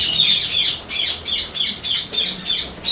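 A flock of hungry lovebirds squawks loudly and continuously in rhythmic bursts, harsh shrill calls repeating about every half second close by, with no talking.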